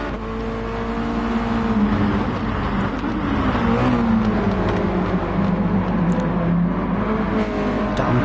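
Race car engines in a PS4 racing game at the Tsukuba circuit drone and whine steadily, pitch rising and falling as the cars battle closely on track.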